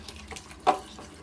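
Hot boiled water is poured into a pot of chicken dum biryani, a single short splash over quiet kitchen background.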